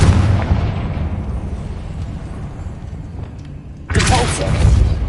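A Confringo blasting spell in Hogwarts Legacy goes off with a sudden loud burst near the end, after a low rumbling ambience.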